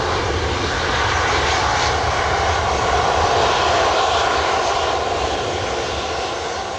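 A JAL jet airliner arriving from Tokyo Haneda at Takamatsu Airport gives a loud, steady broadband engine roar that holds for several seconds and then eases slightly, with no voices.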